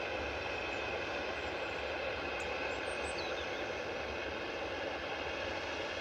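An EasyJet airliner at Liverpool Airport gives a loud, steady broadband jet roar that holds unbroken throughout, with no talking.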